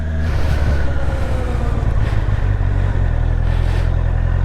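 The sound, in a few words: Honda CBR650R motorcycle pulling away with E-clutch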